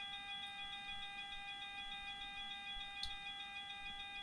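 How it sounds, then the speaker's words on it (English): An aircraft cockpit alarm sounds a steady, continuous multi-tone electronic beep on a parked plane awaiting ground power, faint and unbroken, with no talk. "we should get the annoying alarm"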